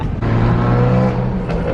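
A tuned car accelerates hard down a city street in Berkeley, its loud, close exhaust roaring steadily as it pulls away through traffic.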